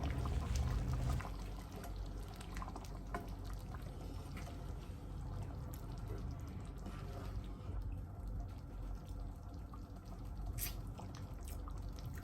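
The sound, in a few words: pouring chopped tomatoes into a pot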